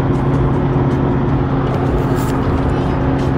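Steady in-car road rumble of a family car on a long holiday drive, constant low engine and tire drone filling the whole stretch with no clear changes.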